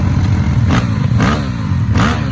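A KOVI 300 big-bore motorcycle with a ported head idles loudly nearby. Its low engine throb swells into three quick, sharp revs in a steady rhythm.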